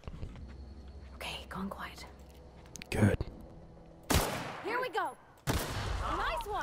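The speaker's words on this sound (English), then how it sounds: "Oh, that was an explosion." Loud, sudden blasts and bursts of gunfire-like bangs from explosions in the video game The Outer Worlds break through a quiet, whispery background, with short gaps between the hits.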